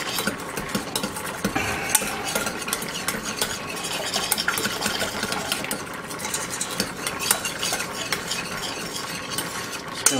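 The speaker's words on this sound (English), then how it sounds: "Just going to make a little stirring with the whisk." A whisk stirs creamed onion mixture in a pan, giving steady scraping and clinking against the metal alongside a soft sizzle of cooking, close and continuous with no talking.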